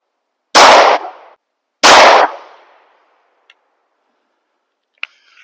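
A rifle fitted with a red dot sight fires two loud, close shots about a second apart, each with a brief echoing tail, followed by two faint metallic clicks.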